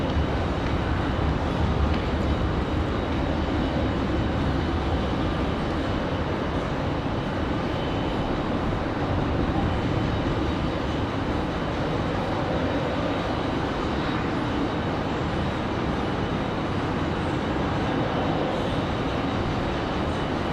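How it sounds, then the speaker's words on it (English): A CRJ regional jet departs Raleigh-Durham for Austin, a constant loud broadband engine roar with heavy low rumble that holds steady throughout, no talking. "That's CRJ off to Austin, Texas."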